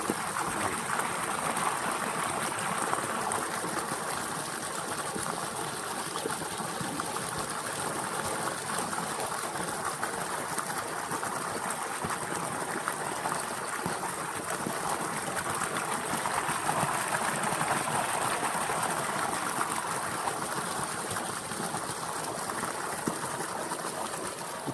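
A 1500-watt AC/DC submersible water pump pushes water through a 3-inch pipe, giving a steady, loud rushing gush of flowing water with a constant motor hum throughout, with no talk.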